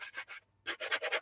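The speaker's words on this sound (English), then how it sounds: "So I'm just taking a sanding block to this." A sanding block rubs over a wooden wreath sign in quick, soft strokes: three rasps, a brief pause, then five more in a steady rhythm, close and quiet.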